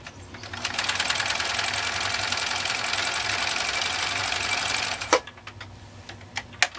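A 1958 Husqvarna Viking 2000 sewing machine stitches rapidly through eight layers of heavy-duty upholstery fabric, a loud steady mechanical chatter for about five seconds that stops abruptly, followed by a few sharp clicks and knocks.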